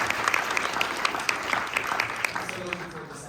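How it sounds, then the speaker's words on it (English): An audience at a South by Southwest social enterprise panel breaks into steady, dense applause for Humanitix, with scattered louder claps standing out and the clapping tapering slightly toward the end. "Can we give a round of applause to Humanitix?"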